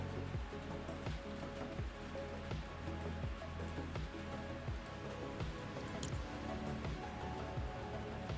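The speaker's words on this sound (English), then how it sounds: "It's also raining where I live" Steady rain pattering on outdoor surfaces, a dense continuous patter of drops heard from indoors without pause.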